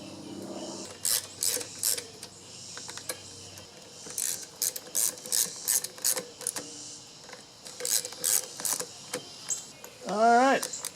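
Rapid bursts of ratchet clicking as screws are tightened into a plastic Briggs & Stratton lawn mower carburetor, repeating in short clusters close by, with a brief whirring sound near the end.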